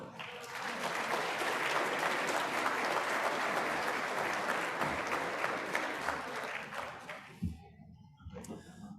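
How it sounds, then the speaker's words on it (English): Audience applause at a gala dinner, a loud, sustained wash of clapping from a crowd for about seven seconds before it drops off sharply, leaving a few scattered claps and faint room noise. "So if we could give a round of applause, please, for Leonard Ojic."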